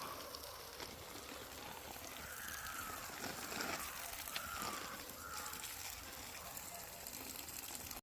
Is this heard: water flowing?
yes